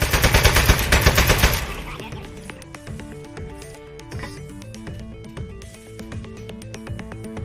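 Loud rapid gunfire bursts in the video game Aperture Desk Job, a dense machine-gun-like rattle for the first second and a half, then lighter scattered shots and impacts on appliances over game music.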